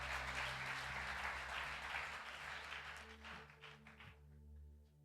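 Church congregation applauding during a sermon, a dense wash of many hands clapping at moderate distance that holds steady and then thins out toward the end, with a low sustained organ-like tone underneath.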